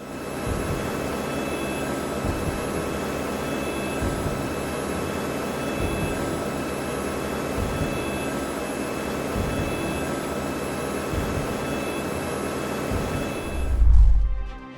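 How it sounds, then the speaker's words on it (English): A light plane flies low over suburban Sydney houses, its engine droning steadily and fairly loud for the whole stretch, then a brief heavy thump near the end. "A light plane that made a dramatic crash landing in Australia after flying perilously close to houses in suburban Sydney."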